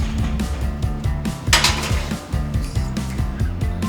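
Potatoes set onto a metal baking sheet, a run of close clinks and clatters with ringing metallic tones, steady and busy throughout with one louder scrape midway.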